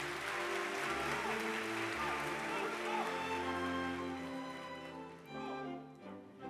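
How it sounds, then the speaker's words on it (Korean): An audience applauding award recipients at a police lieutenant and captain appointment ceremony, a broad sustained clapping that fades toward the end, mixed with ceremonial music. "큰 박수로 수상자들을 축하해 주시기 바랍니다"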